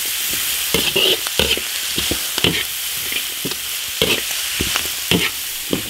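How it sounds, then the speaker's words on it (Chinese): Pig tails and seasonings stir-fried in an iron wok give a steady loud sizzle, broken by repeated scraping clatters of the spatula at a fairly regular pace. "把猪尾巴水分煸干， 下入所有的调料"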